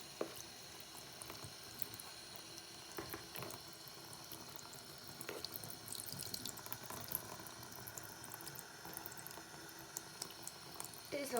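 Tap water runs steadily into a container to soak pet turtles, a continuous splashing flow with small drips and clinks, close by, with no talk over it.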